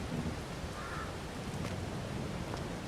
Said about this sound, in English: we're just gonna have to wait out the rain and see what happens.